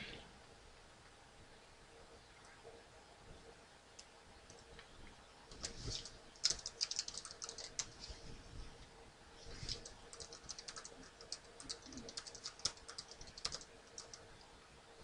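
Computer keyboard keys being typed while entering a username at a Windows 7 login, with soft clicking bursts that are quiet at first and grow denser and louder through the second half.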